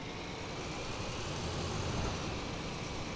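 Scania Touring coach engine in the Tourist Bus Simulator game, a steady, even drone with a soft rushing hiss that holds at constant loudness for about three seconds, with no talking over it.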